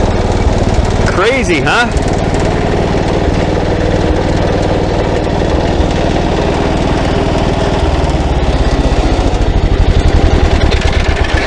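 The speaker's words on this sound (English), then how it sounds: "Like I said, the engine is really tired." A worn, tired old engine with heavy blow-by runs at a rough, uneven idle, loud and close with a pulsing, chugging rhythm, while someone speaks briefly over it.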